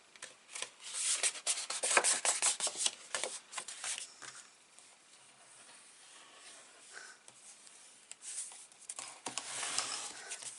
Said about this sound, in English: I'm just going to fold this in half for a second.